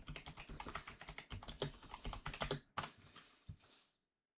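Rapid clicking on a computer keyboard at a desk setup, dense bursts of keystrokes rattling close and crisp for a few seconds before tapering off into quiet.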